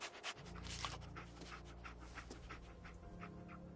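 Dogmeat, the dog companion in the video game Fallout 4, pants steadily and close up for several seconds over a low, constant in-game hum.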